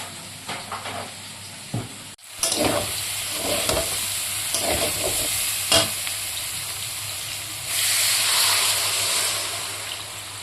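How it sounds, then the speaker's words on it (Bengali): Potatoes sizzle as they fry in a pan in a home kitchen, a steady loud crackle broken by scraping and stirring clatters, with the hiss swelling near the end. "সো আমার আলু ভাজাগুলো কমপ্লিট"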